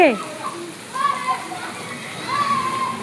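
Children play and shout in floodwater, their high, excited voices rising at moments over a low wash of water and splashing, with an adult speaking nearby.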